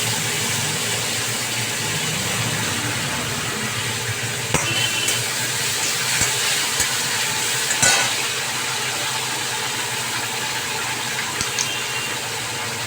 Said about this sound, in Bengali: এই বাটিটা ধুয়ে, মিক্সি বাটিটা ধুয়ে জলটা আমি দিয়ে দিলাম।